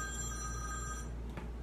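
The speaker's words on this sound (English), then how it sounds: "the Peanut Gallery's phone is ringing." A telephone rings indoors, a steady electronic ringing tone that stops partway through, quiet and somewhat distant over a low background hum.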